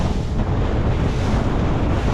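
Strong wind buffets a small boat at sea off Perth while out lobster potting, giving a loud, constant roar of gusts hitting the microphone over rushing water and surf.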